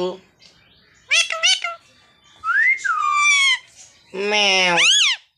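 A cat meows three times, each call drawn out and rising then falling, close and fairly loud with short pauses between them.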